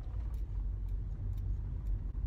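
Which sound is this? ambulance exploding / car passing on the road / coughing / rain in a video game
car passing on the road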